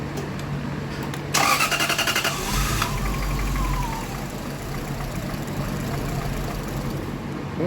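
A Lexus GS400 with no check-engine light cranks with a rapid pulsing starter whir, catches briefly with a rough, loud burst, then stalls and fades back to a steady background hum.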